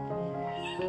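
Abandoned kitten found on a mountainside meowing close by, thin high cries repeating over a short stretch with no talk.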